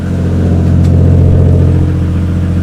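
A 1JZ-engined MK3 Toyota Supra runs after a fuel pump replacement, giving a loud, close, steady idle hum with an even rhythmic pulse and no talking.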